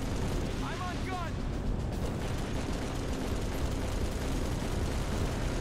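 Turret gunfire in the Halo 3 video game makes a continuous, dense roar of rapid shots that stays loud and close throughout, with a couple of brief whistling sweeps early on.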